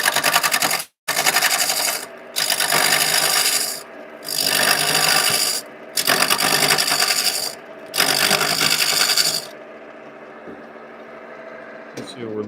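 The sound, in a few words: lathe turning wood with a sharp carbide-tipped tool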